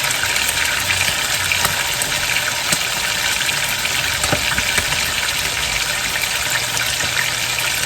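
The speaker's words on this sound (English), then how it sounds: "Now I'll cook these to medium rare." Steaks cooking in a pan with a mushroom gravy, giving a steady, close broadband sizzle with faint crackles throughout and no talking.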